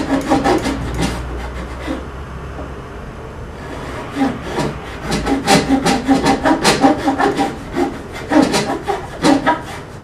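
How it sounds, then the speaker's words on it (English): Hand sawing of fret slots in the fingerboard of a 1962 Fender Stratocaster during a re-fret, heard as a series of close, rhythmic rasping wooden strokes that quicken in the second half, with no talking. "Now that we've got the fret slots all cut to the right depth"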